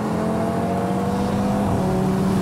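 A Mercedes C63 engine roars at steady high revs on an airfield runway, a loud continuous mechanical drone with a rising tone near the end.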